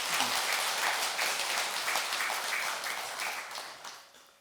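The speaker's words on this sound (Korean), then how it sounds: "합창단에게도 박수 한번 부탁합니다" A Buddhist temple congregation at a Dharma assembly claps for the choir, a steady, dense applause that holds evenly for several seconds before slowly thinning out.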